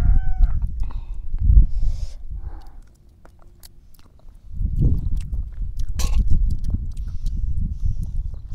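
Someone bites and chews cooked chicken close to the microphone, with wet crunching and chewing bursts, a brief quiet pause partway, then more steady chewing and a few faint background sounds.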